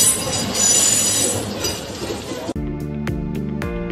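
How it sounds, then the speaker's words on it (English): A farm tractor modified to run on rail tracks gives a loud rolling rumble with metallic clinks and squeals, then shifts to steadier droning tones with sharp rhythmic clicks from the wheels. "Tractor is modified to work on a rail tracks."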